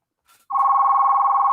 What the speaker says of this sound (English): Goodness gracious, they're ringing my phone off.